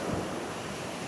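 Ocean surf washing onto a sandy beach in West Sumba on a hot, sunny midday, a steady broadband rush of breaking waves mixed with wind buffeting the microphone, with no talking.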